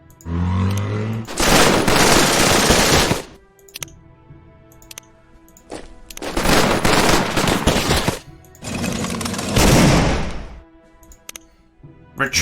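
Artillery fire in the video game Operation Citadel comes as three heavy, booming barrages of roughly two seconds each, with sharp thuds and clicks scattered in the quieter gaps between them.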